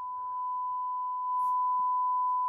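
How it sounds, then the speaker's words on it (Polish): A steady, pure 1 kHz test tone plays through an Onkyo A-8051 amplifier, continuous and even across the whole stretch, with a couple of faint clicks and a low background hiss beneath it. "Załączmy sobie 1 kHz sygnał wejściowy"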